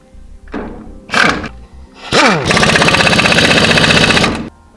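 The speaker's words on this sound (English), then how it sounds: "we'll go ahead and tighten down our bolts now" Bolts being tightened during a trailer brake job, a few short clunks and thuds followed by a sustained rapid rattling whir like an impact wrench running for about two seconds, loud and close, with no talking.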